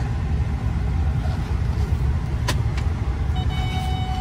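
A 2013 Ford F-150 King Ranch pickup drives along with a steady low engine and road rumble throughout, a brief sharp click partway through and a faint whine near the end, with no talking.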